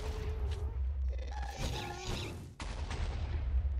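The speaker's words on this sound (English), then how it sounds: "I was blown up by a creeper" A Minecraft creeper explodes in a game, with a rough, crackling blast and rumble spread through the scene, a sharp drop and then a renewed burst of noisy rumble, fairly close and moderately loud.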